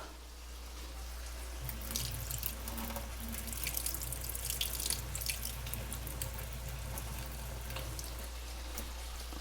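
Liquid from a can of peas drains into a sink, making a steady, soft splashing trickle that lasts the whole time, fairly faint with no talking.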